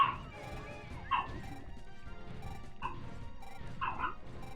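A dog barks in short repeated bursts inside a room, with several loud yips spaced a second or so apart over steady low background noise from a Pikmin 2 game session.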